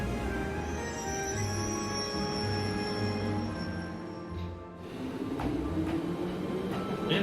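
A train pulls away in the video game Trails of Cold Steel, a steady low rumble with sustained tonal hums and a brief dip before the rolling noise swells again, with no talking.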